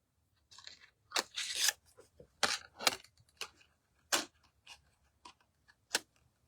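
Scissors cutting paper card close by in a crafting setting, a run of sharp crisp snips and crunches in irregular bursts, quiet but distinct.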